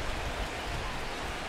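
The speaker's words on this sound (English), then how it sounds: "Rain continues to fall here in the sixth" Steady, soft hiss of rain falling on a baseball stadium in MLB The Show 17 during a Diamondbacks at Mets game, even and continuous with no other distinct sounds.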